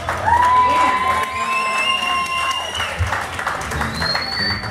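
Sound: audience applause for Lucy

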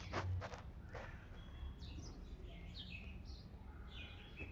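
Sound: house sparrows chirping at a feeder

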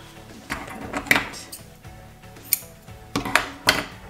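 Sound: scissors cutting a fabric strip for a quilt

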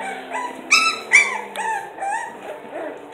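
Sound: four-week-old American Bully puppies

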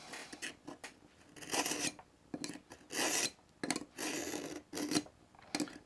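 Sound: knife being sharpened on a Smith's sharpener

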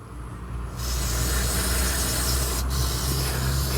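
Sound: electronics cleaner spray sprayed onto spliced motorcycle wiring

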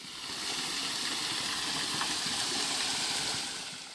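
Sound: small waterfall rushing water, Eungam falls

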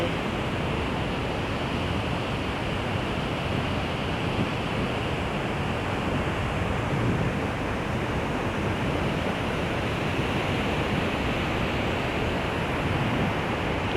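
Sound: Pa Sak river water flowing over full dam

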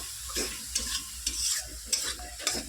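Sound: spice paste being stir-fried in a pan

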